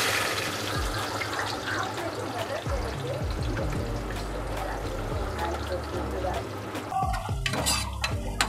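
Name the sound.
two whole onions frying in pan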